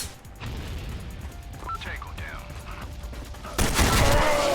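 Gunfire rattles in a Special Force 2 online shooter match: rapid bursts of shots, then a louder, denser volley near the end, with a voice briefly heard over the game audio.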